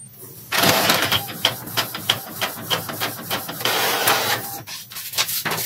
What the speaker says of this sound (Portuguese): agora vamos ver a impressão, como é que vai ficar aqui